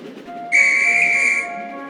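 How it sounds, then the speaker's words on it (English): A guard's railway whistle gives one shrill, steady blast lasting about a second, loud and close, over a low ambient rumble. "The guard's whistle blew, and Gordon puffed sadly away."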